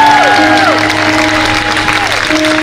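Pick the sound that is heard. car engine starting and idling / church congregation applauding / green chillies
church congregation applauding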